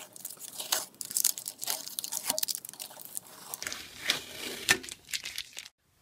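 Old tape peeled from the bed of a Monoprice Select Mini 3D printer: close, crackling, sticky tearing with short crinkly bursts, quiet and continuous, ending abruptly.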